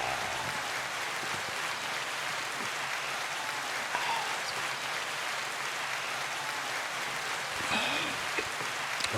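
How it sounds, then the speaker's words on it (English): A continuous wash of clapping from a crowd, soft and even, with no talk over it. "Round of applause for us."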